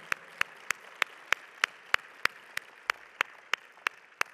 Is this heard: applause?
yes